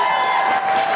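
A crowd at a town meeting cheers and whoops in a brief, loud burst of mixed voices that fills the room, with a steady tone running beneath it.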